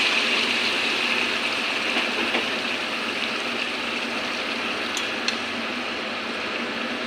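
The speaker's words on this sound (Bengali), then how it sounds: "ফুটন্ত জল আমি ব্যাগে জল ফুটিয়ে রেখেছি ওটাও দিয়ে দেব" Boiling water is poured into a pot of winter vegetables and chickpea dal as a steady, unbroken rush of liquid that holds at the same level for the whole stretch, close and fairly loud.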